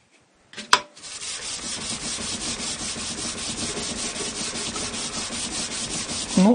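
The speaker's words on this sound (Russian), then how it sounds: "Так, закончил на той наждачке. Сейчас поставил вообще меленькую." Homemade electric planer knives are rubbed back and forth on fine sandpaper, a steady rhythmic scraping of many quick even strokes that starts after a brief tap and continues alone at close range.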